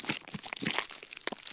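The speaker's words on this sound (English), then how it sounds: "Who is crunching in the background? What is that sound? It sounds like some bubble wrap." Bubble wrap crunching and crinkling while a computer is unpacked, heard as quick irregular pops and crackles scattered through the moment, fairly close and moderately loud with no talking.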